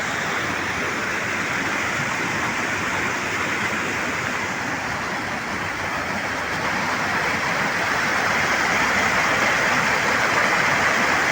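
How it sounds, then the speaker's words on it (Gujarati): A swollen village river in Gujarat rushes past in full flow, a loud, continuous broadband roar that stays steady and close throughout, with no voices. "આમ જો તો ખરા પાણી ઘૂઘવાટા મારે"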